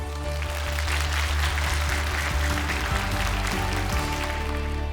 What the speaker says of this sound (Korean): 이제 노동일 교수님의 발제 박수로 듣겠습니다.